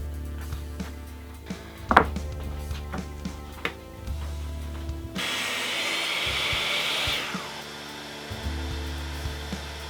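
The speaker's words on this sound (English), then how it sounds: "I cut it using my miter saw" A miter saw cuts a plywood strip and dowels for pegboard shelves, with a sharp strike near two seconds, a few lighter knocks and a sustained high whining cut through the middle, over a steady low motor hum.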